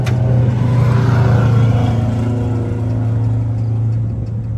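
A motorcycle engine runs on its own at a high, steady revving drone and refuses to shut off, loud and close with a strong humming tone and no voices.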